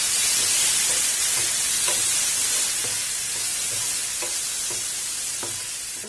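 Paneer gravy with chopped coriander leaves sizzles steadily in a pan after a sprinkle of water, a dense, continuous hiss with faint stirring scrapes, loud and close at first and easing slightly toward the end.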